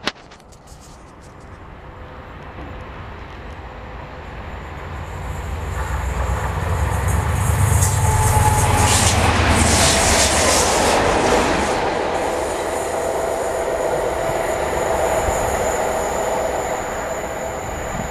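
A freight train rolls past on the rails outdoors, its rumble swelling as it approaches and then holding a long, loud passage of wheel noise with faint squeals and clatter.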